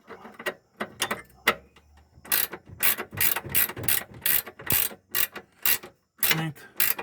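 A ratchet tightens a bolt on the front lower control arm bushing of a 2014 Honda Vezel RU3 Hybrid, giving close, loud bursts of rapid clicking strokes that speed into dense runs, with no talking.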